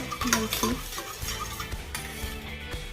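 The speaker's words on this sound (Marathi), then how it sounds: "आता हे जे मिश्रण आहे हे आपण छान पद्धतीने मिक्स करतो" A homemade lip balm mixture is stirred by hand in a container kept off direct flame, producing repeated scraping and light clinking strokes at close range.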